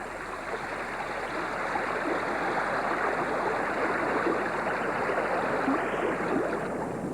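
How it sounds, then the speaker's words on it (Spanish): A mountain stream flows toward larger rivers, making a steady, full rushing of water that holds evenly through the whole stretch with no voices. "cuando los pequeños riachuelos de montaña se unen a los grandes ríos"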